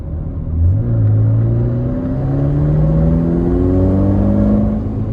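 A 2020 Ferrari Portofino pulls from low speed, its engine note climbing steadily in pitch through rising harmonics, loud and close from inside the cabin with no talk.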